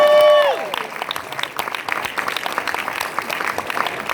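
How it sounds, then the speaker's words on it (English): A crowd at a live comedy and music show applauds, steady dense clapping fading in right after a ringing chord, loud and continuous with scattered shouts. "give him a big round of applause, folks"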